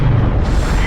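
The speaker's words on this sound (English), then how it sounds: "the Covenant cruiser swiftly makes a jump into slipspace, sending an explosion across the city" A Covenant cruiser in Halo jumps into slipspace and sets off an explosion over a city: a loud, deep, sustained rumbling blast that fills the whole moment with heavy low-end roar.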